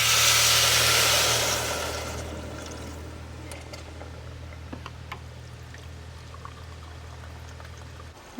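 Water pours into a cooking pot at a creekside RV campground, a loud, rushing gush for about two seconds that thins to a quieter trickle over a steady low hum.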